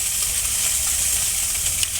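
Small puti fish frying in hot oil, giving a steady, close, continuous sizzle and hiss with no talk.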